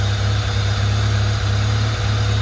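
1991 Honda Civic engine idling roughly and bogging down, a loud low rumbling idle with periodic dips and stumbles heard up close.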